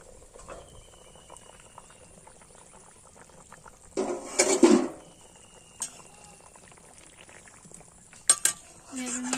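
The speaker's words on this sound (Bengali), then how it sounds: "এবার আমি ঢাকনাটা খুলব" A metal lid lifts off a pot of simmering mutton curry on a home stove, a brief clattering rattle standing out against faint bubbling, followed by a few lighter clinks.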